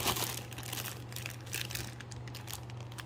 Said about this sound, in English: what I'm going to do is take some heat tape